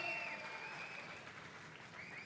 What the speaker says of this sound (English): Big cheers from the crowd again.